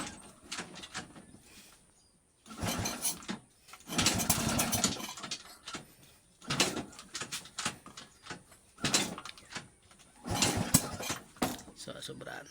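A Honda XRM110 motorcycle engine idles while its carburetor is tuned, the close engine sputtering and revving in uneven bursts with brief dips between, and someone talks over it.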